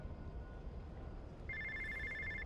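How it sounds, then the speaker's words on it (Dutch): An in-game telephone in inFamous: First Light starts ringing partway through, a bright electronic trill sustained over low ambient game background, with no talk. "Oh, telefoon."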